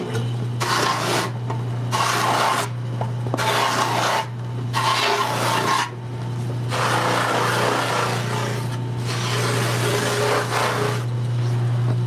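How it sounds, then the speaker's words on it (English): Electric orbital sander working a handcrafted wooden skateboard deck, a loud continuous rasping hum with steady motor drone, cutting in and out in several bursts of a few seconds each with brief pauses between. "we're gonna move over to the Mac wheel and then the orbital."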